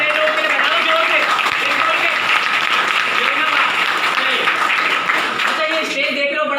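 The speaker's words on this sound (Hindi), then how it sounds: "जो पहली बार आया उसके लिए भी ताली बज रही है" Audience at a healthy-living gathering in Nepal claps loudly and continuously, a dense, steady wash of applause with voices faintly underneath.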